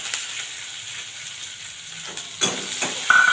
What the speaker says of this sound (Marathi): शेंगदाणे चांगल्या पद्धतीने भाजले की त्याच्यामध्ये आपण चिरलेला कांदा टाकून देऊ